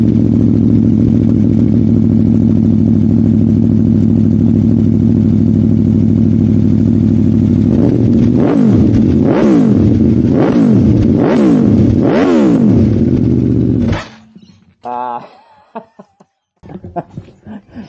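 A sport motorcycle, a BMW M1000R or Aprilia Tuono V4 Factory, drones loudly at steady speed, then revs hard through several rising and falling bursts before cutting out, with brief blips afterward.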